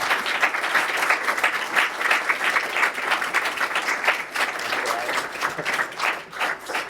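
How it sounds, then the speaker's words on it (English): An audience applauds panelists at an evening investor panel event, steady dense clapping from a sizable crowd that swells and dips slightly without pause throughout. "maybe we can have another round of applause for our panelists tonight"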